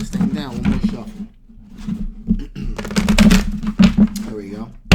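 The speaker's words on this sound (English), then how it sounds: "One more shuffle." Tarot cards shuffled in several crisp riffling bursts, close and fairly loud, under a steady low hum with a person talking over parts of it.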